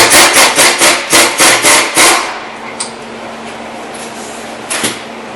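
Rear strut being pulled out of a 2008-2013 Toyota Highlander: a quick run of about nine rhythmic rubbing, knocking metal-on-wood-like thumps for two seconds, then quiet workshop room tone with a couple of faint clicks.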